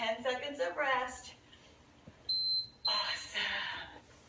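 A single sharp, high electronic workout timer beep signalling rest, lasting about half a second, with a person talking just before and right after it.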